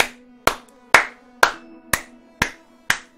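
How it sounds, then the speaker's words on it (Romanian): Seven slow, evenly spaced hand claps ring out close and crisp, a sarcastic round of applause in a Romanian gaming session, with a faint steady tone underneath. "Un rând de aplauze, oameni buni."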